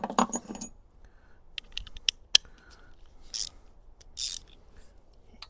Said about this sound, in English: let's remove the spark plugs on this side